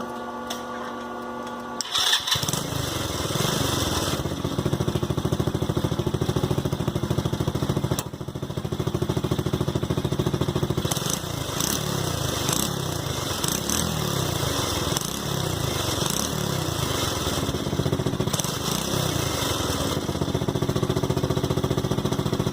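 A TaoTao 125cc ATV quad engine cranks, fires up after about two seconds, then runs steadily with a loud, buzzy, rattling idle and occasional revs, close to the listener with no talk.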